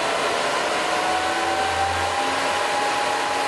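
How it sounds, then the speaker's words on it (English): An Air Venturi air compressor's cooling system runs as a steady, close whirring blower noise with a faint tonal hum, continuous and unchanging from start to finish. "Go ahead and turn the cooling system on."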